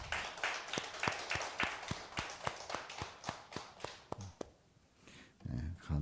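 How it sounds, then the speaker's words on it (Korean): A small congregation at a Friday late-night prayer service gives scattered, sharp claps that run in a rough rhythm, fade out, then a voice begins speaking. "우리 박수로 격려합니다"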